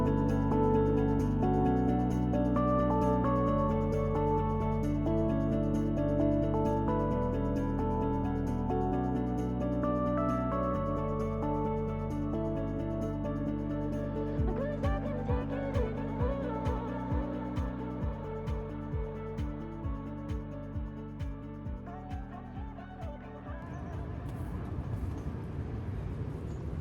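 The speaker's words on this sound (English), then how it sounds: "The wind today is absolutely horrendous." Strong wind battering a fishing bivvy at a carp match, heard from inside as a loud, continuous roar with low rumble and repeated flapping gusts toward the end; no one speaks.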